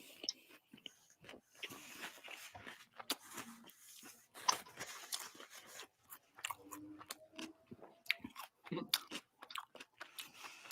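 Someone chews crunchy taco food up close, giving irregular crisp bites and crunches with quiet pauses and a few soft mouth sounds.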